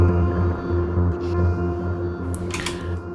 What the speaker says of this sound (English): here's the original sound from Absynth. It's just an included patch from here from a Native Instruments.